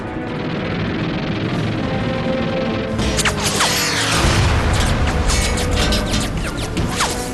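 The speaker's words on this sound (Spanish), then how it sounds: "Los Avengers lanzan sus cohetes sobre el submarino." Loud, dense rumbling blasts and crashes of aircraft rockets striking a submarine roll continuously, with a sharp surge of explosive impacts midway, heavy and chaotic with no voices.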